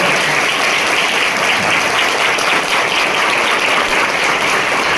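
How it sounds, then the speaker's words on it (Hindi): A school audience at an event for a national typing competition claps loudly for two computer teachers, a thick, even roar of applause that holds steady throughout. "तो एक बार अपने दोनों कंप्यूटर टीचर्स को भी जोरदार तालियां बजाएं"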